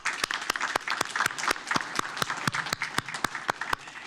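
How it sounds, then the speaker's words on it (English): Applause at a city council meeting: a room of people clapping, fairly sparse with sharp individual claps standing out in an uneven rhythm, moderately loud. "Let's give Paulo a round of applause"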